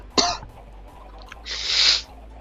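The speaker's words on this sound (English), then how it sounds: "That was a coughing fit right there." A single loud, close cough bursts out, followed a second later by a longer, breathy cough or throat-clearing rasp, with no talking over it.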